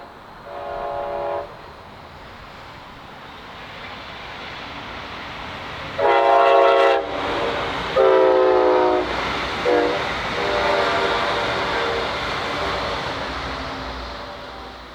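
A pink-wrapped Brightline passenger train heading northbound at the Crane Creek Bridge in downtown Melbourne, Florida, sounds several loud horn blasts over a steady rumble of wheels and rail as it passes.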